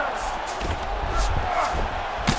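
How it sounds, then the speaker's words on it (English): Arena crowd at a UFC bout between Sean O'Malley and Merab Dvalishvili, a sustained roar of cheering and shouting after an extended grappling exchange, loud and diffuse, with a thud near the end. "crowd just loving it as the fighters, after an extended grappling battle, make their way"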